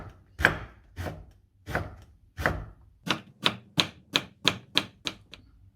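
A knife slices eggplant into half moons on a cutting board, first four slower, spaced thuds, then a quicker run of about eight sharp, close chops in a steady rhythm, with no talking.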